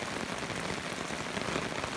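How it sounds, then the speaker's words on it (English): Pouring rain falling steadily around a camper's hammock, a dense, even hiss of drops close by with no breaks. "I didn't feel like packing up in the pouring rain."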